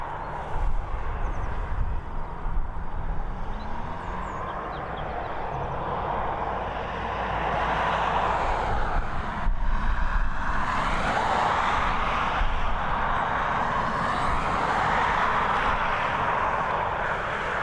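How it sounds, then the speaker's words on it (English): A British Airways Embraer E190 arriving at Dublin Airport, its jet engines making a steady roar that swells and shifts in the middle, heard from a distance with no talking. "There we go, it's Embraer E190 just coming from London City, operated by British Airways"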